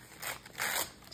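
Paper being ripped by hand for a handmade glue book, two quick tearing bursts within about a second, close and moderately loud, no talking.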